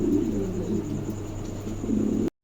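Pigeons at a wholesale pigeon market coo in low, continuous murmurs with steady background noise, cutting off abruptly at the end.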